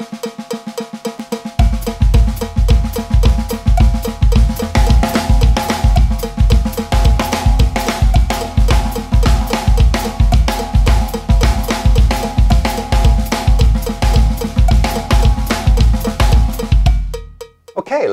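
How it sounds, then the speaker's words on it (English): A drum kit plays a busy sixteenth-note fill pattern on the toms and snare while a samba kick thumps steadily underneath, loud and driving for nearly the whole stretch, then stops abruptly. "here's what line 2 sounds like with the samba kick underneath."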